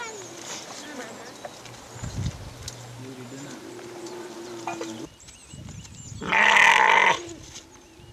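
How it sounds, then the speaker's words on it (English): Goats bleating close by while being milked at a herders' school, a few short calls through the clip with one loud drawn-out bleat near the end, over faint background voices. "milking the goats"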